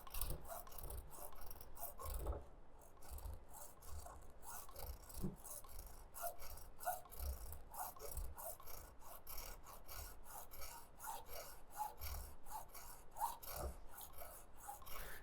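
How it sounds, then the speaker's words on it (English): A knife blade whittles a wooden handle, producing a long series of dry rasping scrapes in quick repeated strokes, close and steady with no talk. "whittling the shape of the handle"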